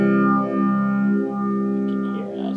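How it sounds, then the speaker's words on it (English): A sustained guitar chord runs through a tap-tempo phaser effect pedal set to a slow rate, its tone sweeping smoothly up and down in slow, even waves, heard clearly with no talk over it. "right now it's a fairly fast phaser, so if I want to go extra slow"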